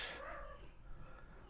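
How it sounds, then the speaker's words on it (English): A cat gives a single faint, drawn-out meow at the start of a quiet indoor stretch, with no talking. "some cat noises going on"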